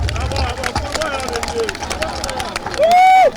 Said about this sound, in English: can you give him the applause?